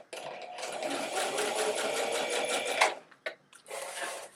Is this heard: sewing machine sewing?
yes